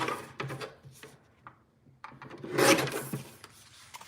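Scrap of cardstock being trimmed to 3x3 on a paper trimmer, a few short close rasping slides with a longer scraping cut in the second half.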